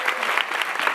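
Audience applause at a live comedy show, a steady dense wash of clapping from a crowd filling the whole second without letup.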